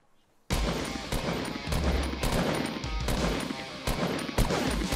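Dense bursts of automatic gunfire in a Fortnite match, loud and close, with rapid overlapping shots and sharp impacts running almost continuously after a brief quiet start.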